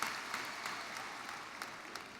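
A graduation audience at a community college ceremony claps for the keynote speaker, a steady, fairly soft wash of applause that holds evenly throughout with no voices.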